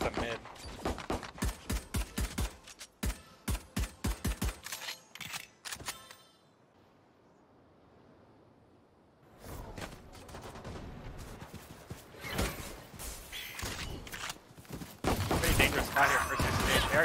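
Rapid bursts of gunfire in a Valorant esports match, crisp repeated shots in quick volleys, then a quiet lull before more firing and game effects resume, with a caster talking over parts of it.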